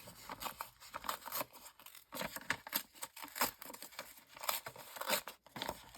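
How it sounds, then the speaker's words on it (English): Glued-together book pages being ripped apart by hand, a run of loud, close paper tearing and crinkling bursts spread across several seconds with brief pauses, no voices. "So I take my first glued together page, and I'm just going to rip it."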